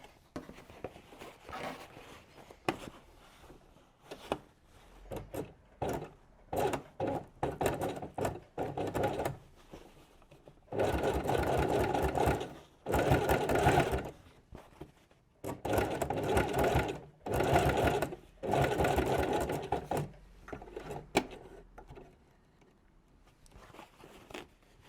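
A sewing machine stitching a denim workwear jacket runs in short bursts and longer steady runs, close and clear, with brief pauses and small handling noises between.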